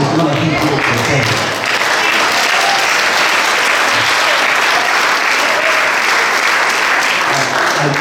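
Sustained applause from an audience at a leadership roundtable event, loud and dense throughout, with clapping filling the room at close range.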